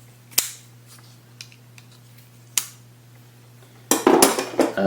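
An Ontario Knife Company Shikra folding knife clicks open and shut: a few sharp metallic snaps spaced apart, then a quick cluster of louder clacks and rattles, close up with a low steady hum behind.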